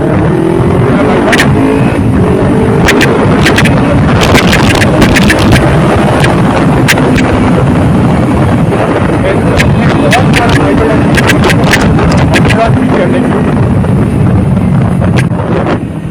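A Kawasaki Ninja 300 motorcycle accelerates at full throttle on the NH2 highway. A loud, steady engine roar is buried under heavy wind buffeting that lasts throughout, with no break.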